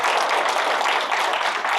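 A lecture audience at a public tax-law talk breaks into steady, dense applause, evenly loud and continuous with no talk over it.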